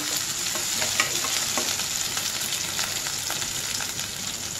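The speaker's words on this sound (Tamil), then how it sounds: "நம்ம சாம்பார் எப்படி தாளிப்போமோ அதே மாதிரி தான் வெங்காயம் நல்லா வதங்கிட்டுருக்கோம்" Onions sauté in hot oil as the base for mutton sambar, a dense, even sizzle close by with light rhythmic stirring scrapes throughout and no voices.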